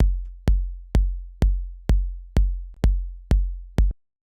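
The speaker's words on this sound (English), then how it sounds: "this is a pretty simple flat kick" Nine flat 808 kick drum hits pound four on the floor at 127 BPM in a minimal house beat, each a deep booming thud with a short decay, loud and alone.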